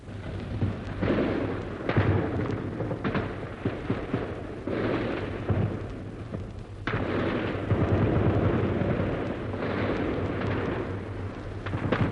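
Artillery fire in a First World War battle, a steady barrage of deep booms and rumbling blasts that rise and fall without pause, heavy and continuous with no voices.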